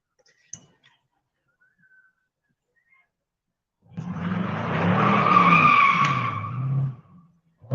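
Car tires skidding and squealing on a residential street, a loud sustained screech of about three seconds after near silence, with engine noise underneath.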